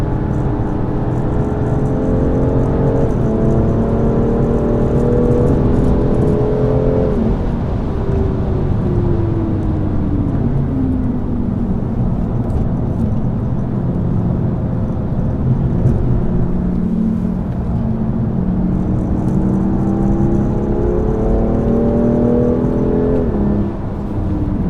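A 2021 BMW M5 LCI pushes hard around a race circuit, its engine roaring loud and close as it climbs through the revs, drops on the shifts and braking, then winds up again, with no voices.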